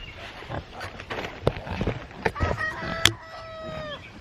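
A chicken on a homestead clucks and squawks near a tractor among farm animals, a string of short irregular clucks ending in a louder drawn-out call, with faint rustling around it.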